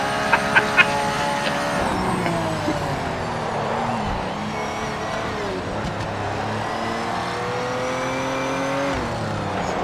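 Race car engines in the Project Motor Racing game drone and rev in layered harmonic whines, rising and falling through gear shifts for several seconds, with a commentator's voice faintly underneath.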